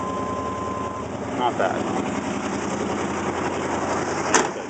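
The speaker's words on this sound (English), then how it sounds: "you're gonna hear a hell of an exhaust leak because, well, it's not in very good condition" 1988 Chevy R30 crew-cab dually ramp truck with a 454 TBI V8 idling with a leaking left-side exhaust, a steady low chugging rumble close by, with a brief remark spoken over it.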